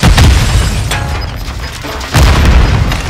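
Grenade explosions in the video game Warzone boom loudly and close, with two heavy bursts about two seconds apart and a rumbling tail filling the gap.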